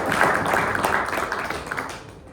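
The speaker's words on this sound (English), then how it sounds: "can we give him a round of applause?" An audience applauds a Toastmasters speaker, with dense, steady clapping from a room full of people that holds at a moderate level before gradually thinning toward the end.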